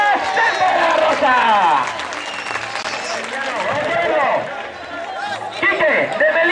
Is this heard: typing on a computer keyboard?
no